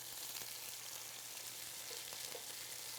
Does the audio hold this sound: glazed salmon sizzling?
yes